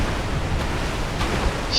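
Water splashes and rushes in Dark Souls II, a dense continuous wash of noise that stays loud and steady with no voices.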